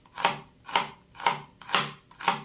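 An onion is chopped with a knife: five evenly spaced, close, scraping knife strokes, each with a short rasping tail, in a steady rhythm with no talking.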